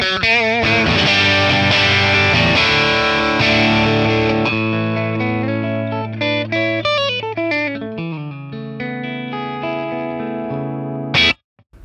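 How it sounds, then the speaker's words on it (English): Distorted electric guitar chords strummed through a 1963 Fender Brown Deluxe tube amp with a crunchy, overdriven tone, ringing out and then decaying before a final short strum. "Really nice crunch tone."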